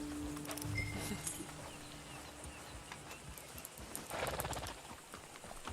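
Horse hooves clip-clop in a steady rhythm with an occasional whinny, set against constant background noise, in the video game Red Dead Redemption 2 Online.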